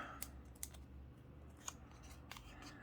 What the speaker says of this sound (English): Then with our scissors, we're going to cut an ice cream cone shape